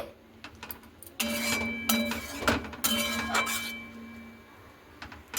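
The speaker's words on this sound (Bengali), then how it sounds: "এরপরে সিমইটাকে দিয়ে খুব ভালো মতো করে একটু নাড়াচাড়া করে নিচ্ছি।" Vermicelli is stirred into reduced milk in a metal pot while making simui payesh, giving intermittent close clinks and scrapes of a spoon against the pot, with a steady low hum underneath.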